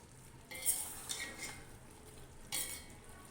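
A spoon gently stirs aloo pulao rice in a cooking pot, giving soft, quiet scrapes and light clinks in a few separate strokes.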